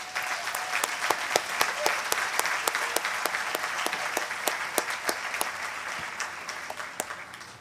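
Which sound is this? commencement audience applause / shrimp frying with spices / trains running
commencement audience applause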